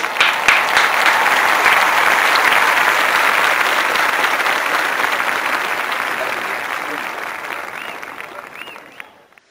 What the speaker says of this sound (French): Recevez avec un fort applaudissement Norman Griffin et José Garcia